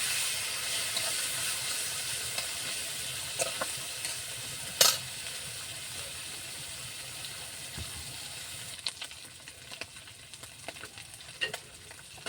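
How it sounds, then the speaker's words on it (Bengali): Small puti fish frying in hot oil with onions, a continuous soft sizzle under occasional stirring clinks and scrapes, one sharper knock partway through, no one speaking. "এটা পুঁটি মাছ তেলের উপর দিয়েছি, সুন্দরভাবে নাড়াচাড়া করছি"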